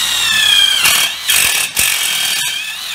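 An Einhell TE-CI 18 Li brushless cordless impact driver drills into a steel profile, a loud, close whining motor with high grinding tones that dips briefly and starts again several times.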